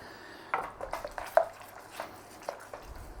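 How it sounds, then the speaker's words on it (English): A spoon stirring sauce in a pan, a quiet series of irregular scraping clinks against the metal, close and soft, with no talk. "Nice little stir on there."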